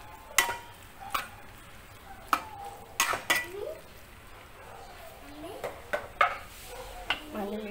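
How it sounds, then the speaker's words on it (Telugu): Cluster beans fry in a pan while a spatula stirs them, giving sharp scrapes and clinks against the metal at irregular intervals. Someone talks quietly in between. "ఒకసారి మిక్స్ చేసుకున్నాము"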